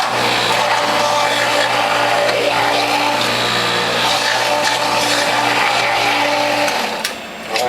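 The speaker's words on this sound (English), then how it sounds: "Now I'm going to feed in my carrots" A juicer grinds carrots through a grid with 1/8 inch holes, giving a loud, continuous motor drone with gritty chopping texture that runs steadily and then eases off at the end.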